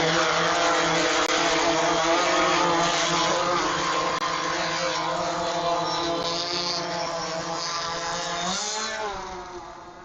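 A drone flies over a neighborhood, its motors giving off a steady, loud buzzing whine that holds close and even, then fades slightly at the end.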